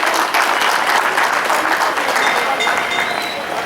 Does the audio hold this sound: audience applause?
yes